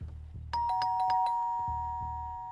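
A doorbell rings in a Baby in Yellow mods video game, a loud bright ding-dong chime struck several times in quick succession over a low rumble, then sustained tones that slowly fade.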